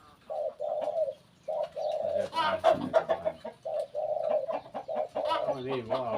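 A spotted dove coos repeatedly in short hooting phrases, close and clear, with some brief louder bird calls and faint voices mixed in partway through.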